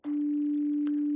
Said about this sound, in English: This is a single sine wave.